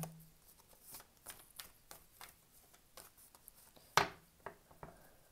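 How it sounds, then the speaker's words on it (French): Tarot cards being shuffled by hand, a run of soft close riffles and flicks with one sharper snap near the end, quiet and without talking. "Je vais continuer un peu à brasser."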